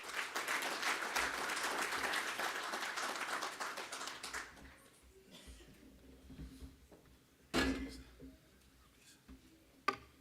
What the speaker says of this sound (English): please give a warm round of applause to our Environmental Commissioner, Mr. Timo Mufeti.